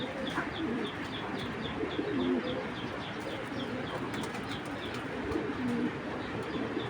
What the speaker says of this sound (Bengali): একদম পুরা অস্থির একটা শেপের কবুতর